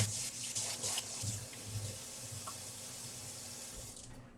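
Hands being washed under a running tap at a sink, a steady close rush of water with rubbing and splashing that eases off toward the end.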